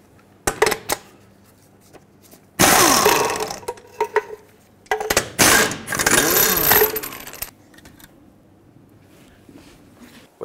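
Lug nuts come off a Toyota 4Runner wheel in loud, close bursts of an impact wrench, several rattling runs separated by pauses.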